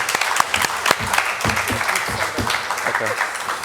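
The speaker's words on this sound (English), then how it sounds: "Let's have a round of applause." An audience at a gubernatorial economic development candidate forum breaks into warm sustained applause, close and full, while a speaker talks over the clapping.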